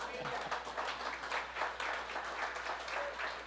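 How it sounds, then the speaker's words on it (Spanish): Audience applause for a speaker named Patricia at a talk on ethics and knowledge, steady dense clapping filling the room throughout with some murmur mixed in. "pido un aplauso para Patricia."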